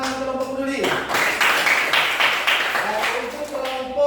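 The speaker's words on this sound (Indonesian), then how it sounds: "Tepuk tangan untuk kelompok peduli." A classroom group claps together for about three seconds, a dense burst of hand claps that swells and then fades, with a teacher's voice speaking before and after it.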